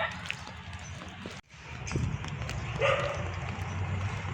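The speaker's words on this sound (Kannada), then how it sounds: "ಇವು ನಾಯಿಗಳು ಬೀದಿ ನಾಯಿಗಳು ಅಂತೀವಲ್ಲ ಅಕ್ಕ ಭಾಳ ಡೇಂಜರ್" Stray street dogs bark outdoors on a morning street, a few sharp barks rising over steady ambient street noise, fairly close and moderately loud.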